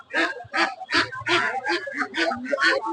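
Ducks at a poultry market quack and honk in a loud, close, rhythmic series of about nine calls, with a low vehicle hum underneath.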